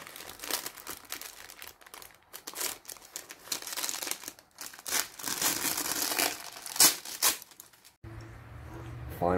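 Masking paper crumpled and torn by hand while prepping a 2009 Harley-Davidson FXSTC for bodywork and primer, with dense crinkling and ripping bursts that run continuously until an abrupt cut near the end.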